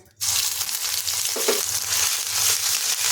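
Ginger and green chili paste fries in hot oil, a steady loud sizzle running throughout with a faint stirring scrape midway; no voices.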